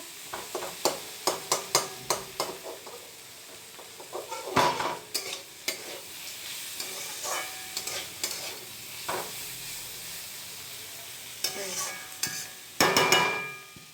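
Sliced bitter gourd and potato fry in a lightly oiled pan with a soft sizzle, broken by repeated sharp scrapes and clatters of a spatula stirring, close and fairly quiet.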